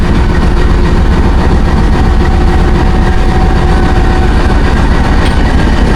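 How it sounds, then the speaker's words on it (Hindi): The Safari train pulls out of Taxila Junction station with a loud, close, continuous heavy engine rumble and steady rail noise, a thick unbroken low roar that stays constant throughout. "डिपार्चर हो गया जी अब सफारी ट्रेन का टेक्सला जंक्शन से"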